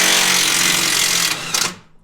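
A power tool whirs loudly as it drives self-tapping screws into a UHMW plastic skid plate on a 4x4, a steady close grinding drone that briefly surges before winding down and stopping.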